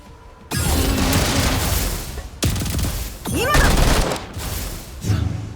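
Sustained bursts of automatic gunfire hitting boss pillars in the game GFL2 Gunsmoke Frontline, three long, loud, dense volleys separated by brief pauses, with impact booms and a rising whine in the middle.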